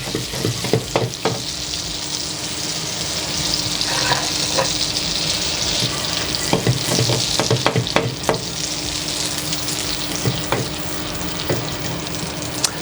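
Butter sizzles and foams in a hot pan as it browns toward noisette before chestnut mushrooms go in, a steady close frying hiss punctuated by sharp clicks and taps of stirring throughout, with no talking.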